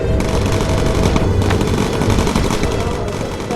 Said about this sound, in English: There's a flak.